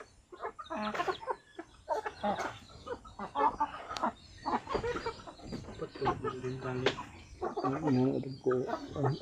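Chickens cluck and squawk nearby, with voices talking over much of it.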